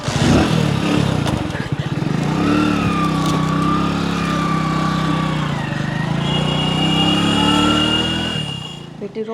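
A motorcycle engine runs steadily at close range for the whole stretch, a low continuous drone with slight rises in pitch, heard in a village setting with a faint voice underneath.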